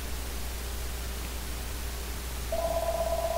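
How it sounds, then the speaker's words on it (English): A phone suddenly begins ringing with a steady electronic tone, cutting in near the end after a stretch of quiet background hiss. "my phone started to ring, and it was actually an important call"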